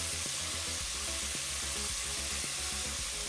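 Chips and French fries fry in hot oil with a steady, close hiss and sizzle that runs unbroken throughout, alongside low rhythmic thumping in the background.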